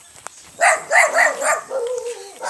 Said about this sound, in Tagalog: Marami nagtatahulan guys, diba?